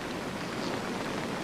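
Steady rain falls beside a slow stream during a fishing session for dace and roach, a dense even hiss of drops with no talk.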